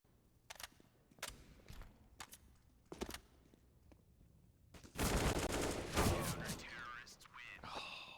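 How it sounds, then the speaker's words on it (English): Gunfire in Counter-Strike on the Mirage map, including an AWP rifle, with several sharp isolated shots followed by a dense loud burst of rapid fire, while a commentator talks over it. "He might not even expect an AWP to be in play, but WORO has it"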